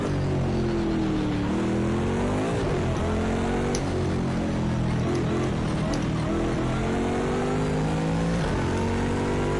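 Racing engines of a Bentley GT3 and an AMG Mercedes GT3 car in Project Cars 2, a loud continuous roar rising and falling through gear changes, with harmonic drones sweeping up and down under steady road noise.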